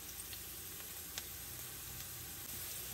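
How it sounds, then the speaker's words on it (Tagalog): Garlic sautéing in hot oil for an ampalaya con carne, a steady close sizzle and crackle with faint scattered pops throughout, no voices. "igigisa lang po natin yung bawang hanggang mag-golden brown po yung ating bawang"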